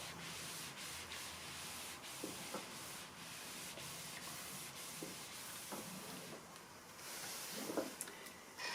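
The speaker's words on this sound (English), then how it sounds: "I'm just pressing the block now, pressing these seams all one way." An iron pressing the seams of a pieced quilt block, a steady soft rubbing and shuffling of fabric with faint hissing, continuous and close, no voices.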